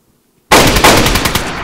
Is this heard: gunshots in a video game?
yes